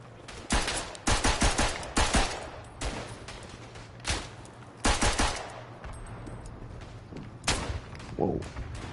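Gunfire in a Western Front war video game, a string of loud, sharp shots and short bursts at uneven intervals, some near and some farther off, over a low steady drone.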